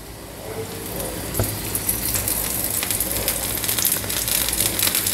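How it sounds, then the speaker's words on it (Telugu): Oil drips onto a rava dosa on a hot pan, raising a soft crackling sizzle that builds slightly and holds steady, close and fairly quiet. "ఇప్పుడు నూనె వేసుకుందాం. రవ్వ దోశకి కొంచెం నూనె ఎక్కువే పడుతుందండి."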